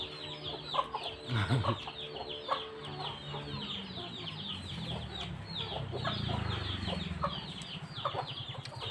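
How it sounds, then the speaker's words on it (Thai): Chickens cluck and chatter continuously behind a rural house, with busy overlapping calls at close to moderate distance against a soft outdoor background. "คนอาจจะได้ยินเสียงไก่นะ เพราะว่ามาถ่ายหลังบ้าน"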